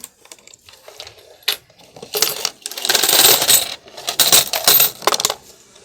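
Coins dropped one after another into a Kuromi piggy bank, producing scattered metallic clinks that build into a dense, jangling rattle and then a few more separate clinks, close and clear with no talking.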